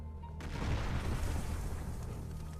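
A walking bomb blows up in a loud, sustained roar of rumbling low-end noise that swells after a brief lead-in and holds for a couple of seconds.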